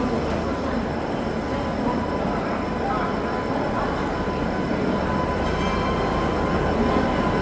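Bhubaneswar Tejas Rajdhani express train arriving at a station, a loud steady rumble of rolling wagons that holds throughout with no clear breaks.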